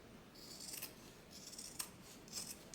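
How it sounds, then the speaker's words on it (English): Scissors snip quietly through fabric seam allowances on a sewn tote bag, three soft rasping cuts spaced about a second apart over a low steady room hiss. "I am going to trim my seam allowances back some"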